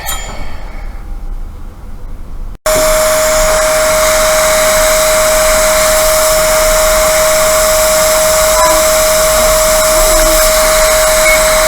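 A hot-air rework station blows steadily on a MacBook Pro logic board, starting with a softer hiss, then after a brief click jumping to a loud, constant whooshing roar with a steady whine for the rest of the clip.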